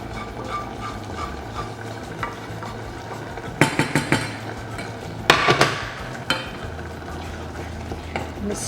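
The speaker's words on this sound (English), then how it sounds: "I'm going to stir that up." Spices stirred into a pot of Cuban-style black beans, with a few clattering, scraping bursts of the spoon against the pot over a quiet background hiss, and no talking.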